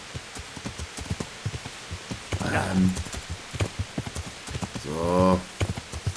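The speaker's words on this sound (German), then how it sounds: "Wir reiten ein bisschen mit unserem Gaul über Stock und Stein," In the video game Kingdom Come: Deliverance, rhythmic clip-clopping horse hooves trot steadily over a soft patter of rain, with a couple of short voiced bursts rising briefly above them.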